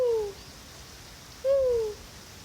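A person's voice imitates an owl hooting during a preschool yoga session, giving two separate, smooth, descending "woo" calls about a second apart, close and moderately loud.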